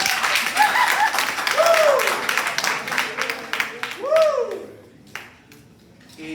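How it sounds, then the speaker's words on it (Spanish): A classroom audience gives a short burst of applause during a microbiology lecture. The clapping is moderately close and mixed with voices and brief tonal sounds, then fades. "Un aplauso, amigo, de compañera."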